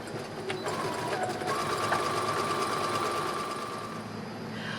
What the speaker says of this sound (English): now I'm going to zigzag stitch both of these back hems.